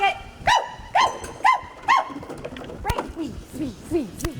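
A dog barks in sharp, evenly spaced bursts close by at an agility training session, then shifts to a run of quicker, softer yips and whines.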